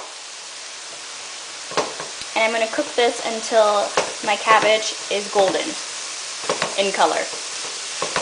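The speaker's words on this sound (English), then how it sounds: "I'm going to cook this until my cabbage is golden" Cabbage fries in four tablespoons of oil in a pan, a steady close sizzle running throughout while a person talks over it.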